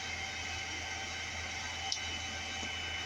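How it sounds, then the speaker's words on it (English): A 3000-watt pure sine wave power inverter runs nearby with a steady, loud hum and hiss that holds evenly throughout, broken only by one faint tick. "All this noise you're hearing right now is this inverter running."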